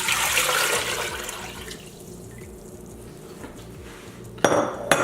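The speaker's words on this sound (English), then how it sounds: "add just water to the pot" Water pours steadily into a cooking pot, a rushing splash that fades to a lighter trickle, followed by a sharp metallic clank.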